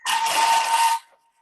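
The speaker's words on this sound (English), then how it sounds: "Alrighty, so we're just going to blitz up those herbs." A food processor blitzes chopped herbs and chives in one loud, steady burst of whirring lasting about a second, then cuts off abruptly, leaving a faint hum.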